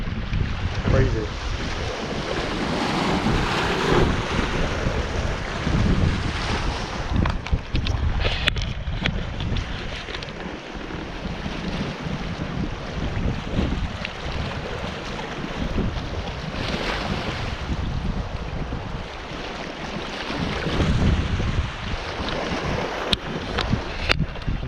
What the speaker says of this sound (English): It's super windy still.